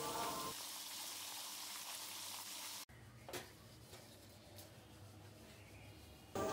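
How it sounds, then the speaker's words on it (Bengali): Catla fish heads fry in oil with a steady, hissing crackle that drops to a quieter fizz partway through. "মাছটাকে আমি ভালো করে ভেজে নিচ্ছি।"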